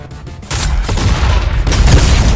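A new shotgun fires in a video game, giving loud, dense booming blasts that start abruptly and keep rolling in a continuous barrage.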